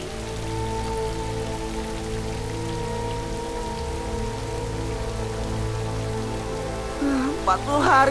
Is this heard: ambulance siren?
no